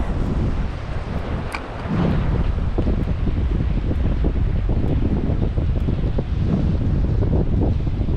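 Cold wind blows along a steelhead river, buffeting the microphone with loud, continuous rumbling gusts that carry faint rushing water beneath, and no voices.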